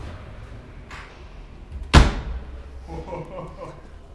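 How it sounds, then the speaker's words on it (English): A Mercedes-Benz E-Class (W213) door shuts with a single solid thud amid quiet surroundings, followed by people talking softly nearby. "Can I try and close the door?"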